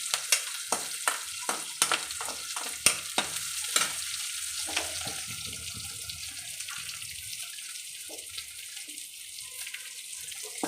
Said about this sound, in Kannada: ಈರುಳ್ಳಿ ಎಲ್ಲ ತುಂಬ ಜಾಸ್ತಿ ಕೆಂಪಗೆ ಆಗಬಾರ್ದು, ಸ್ವಲ್ಪ ಫ್ರೈ ಆದರೆ ಸಾಕು